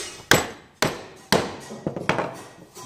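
A mallet strikes a chisel held vertically at the bottom of a wood mortise, giving four or five sharp, close knocks at uneven intervals, each fading quickly, with softer smaller taps among the later blows.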